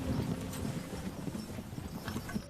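A group of riders on horseback approaches, their hooves beating a steady, overlapping clip-clop on the ground. The sound is moderately near and keeps going throughout.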